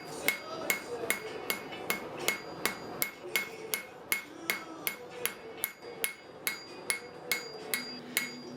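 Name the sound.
hammer forging steel tines on an anvil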